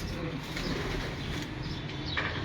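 Pigeons kept by a pigeon fancier coo softly within a dense, constant wash of background noise, with faint chirps and rustling mixed in.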